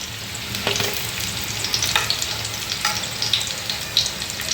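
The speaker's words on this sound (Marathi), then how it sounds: "मुगे मोमोज फ्राय कोन्न जाले" Moong-filled veg momos fry in a pan with a steady crackling sizzle, broken by soft scraping stirs and a few sharper pops, close and without talk.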